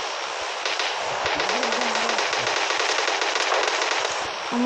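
Rapid machine-gun fire in a video game, a dense continuous stream of shots lasting throughout, loud and close, with a brief rising tone near the end.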